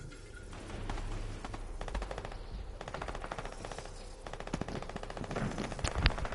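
Rapid bursts of SMG fire in Fortnite, crackling volleys repeating throughout at moderate loudness with brief gaps, a sharper shot near the end.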